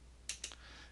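Computer mouse clicks while lines are drawn in CAD software, two or three quick, faint, close clicks over a quiet hum.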